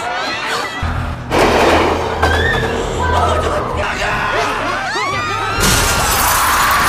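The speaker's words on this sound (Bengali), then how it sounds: "সামনে থাকা মানুষদের চাপে কাঁচও ভেঙে যায়" Glass breaks under the weight of a panicked crowd during a zombie film's train platform scene. Loud crashing bursts cut through screaming and shouting, with a second bright smash near the end.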